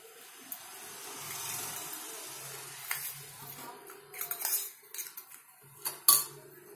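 A spoon clinks and scrapes against a glass while stirring sugar and jaggery into a raw mango drink, aam ka panna, in short bursts of metallic taps over a faint background hum, with no talking.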